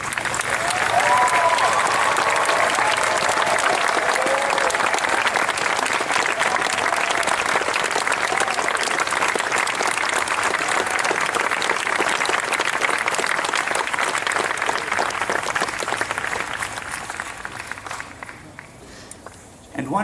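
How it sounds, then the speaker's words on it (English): Audience at a class of 2017 graduation ceremony applauds the standing faculty: sustained, dense clapping from a large crowd that fills the whole stretch, loud and steady before thinning slightly near the end. "Would the faculty please stand so the members of the class of 2017 may thank and applaud you."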